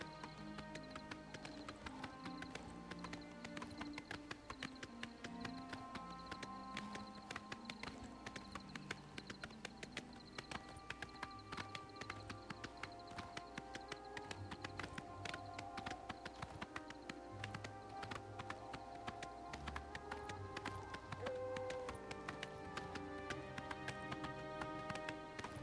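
Horse hooves clip-clop in a steady trotting rhythm while riding through Skingrad in the video game Oblivion Remastered, the regular beats layered under ambient game music.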